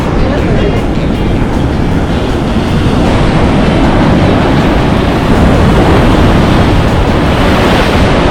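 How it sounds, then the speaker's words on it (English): Ocean waves break and wash onto the sand at Bondi Beach in Sydney, a loud, continuous roar of surf mixed with buffeting wind on the microphone. "look at that wave."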